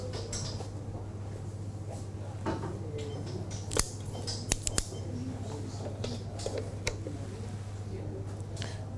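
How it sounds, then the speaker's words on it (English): Guillotine cutter snipping a cigar indoors, a few short crisp clicks and snaps close by over a steady low hum. "I'm going to use a guillotine cut for this."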